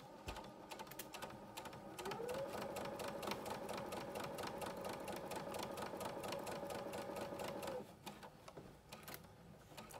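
Sewing machine stitching a quarter-inch seam around a 100% cotton gaiter with a filter pocket: a steady, even motor whir with rapid needle chatter, running continuously for several seconds before slowing.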